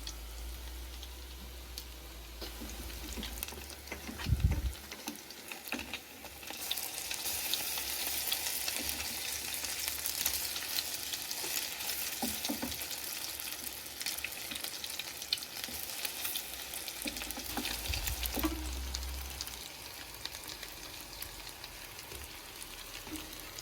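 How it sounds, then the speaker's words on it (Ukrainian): Steady crackling sizzle of potato and zucchini fritters frying in hot oil in two pans, continuous and close, with a few brief knocks and scrapes; no talking. "дві пательні на плиту, тертюшки шкварчать, рум'яняться"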